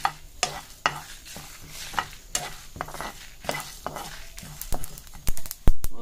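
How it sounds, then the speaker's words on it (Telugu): Sesame seeds, about a spoonful, crackle and pop in a hot pan for a Telugu brinjal dish, sharp irregular snaps and stirring scrapes over a soft sizzle, growing busier and louder toward the end. "నువ్వులు కూడా చిట్పట్లాడుతున్నాయి కదా"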